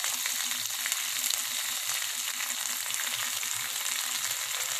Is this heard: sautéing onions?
yes